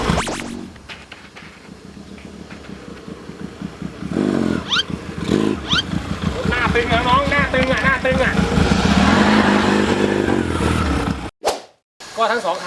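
A Honda Wave motorcycle with a two-cylinder, twin-carburetor engine idles and is revved, its buzzing note rising and falling in pitch, loud and close, while voices talk over it.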